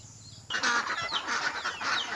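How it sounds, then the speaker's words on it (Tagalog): Several chickens cluck and squawk close by on a farm with ducks, a lively, overlapping chorus, with no talking. "ayan mga manok ito yung mga itik ko"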